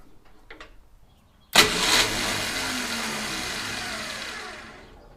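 A junkyard 1969 Dodge Charger dirt track car with a 440 V8 fires after a couple of faint starter attempts, then settles into a loud, rough, steady idle that fades slightly near the end.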